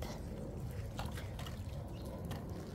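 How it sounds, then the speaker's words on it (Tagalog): Light rain with water trickling and dripping nearby, a soft continuous patter at low level, without talk. "Mahina lang yung ulan."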